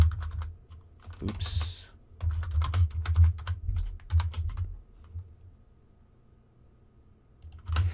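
Close fingers tap out quick bursts of keystrokes on a computer keyboard, with a short pause and one brief spoken word partway through before the typing resumes.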